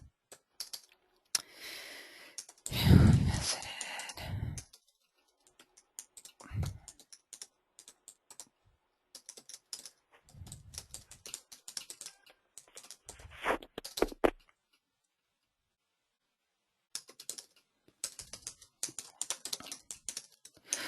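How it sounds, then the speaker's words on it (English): Rapid clicks of someone typing on a computer keyboard come in bursts separated by pauses, with a few louder thumps mixed in. "sorry about the typing"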